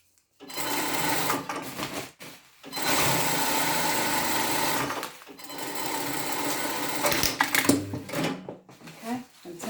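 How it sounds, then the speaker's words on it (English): A sewing machine stitches elastic into the cuff of a fabric coverall in three long, loud runs of steady whirring, with short pauses between them and fabric handling near the end. "and then we're going to stitch that in."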